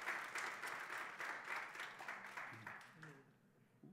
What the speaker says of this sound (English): let's give William a round of applause